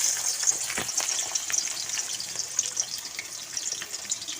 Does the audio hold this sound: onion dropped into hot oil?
yes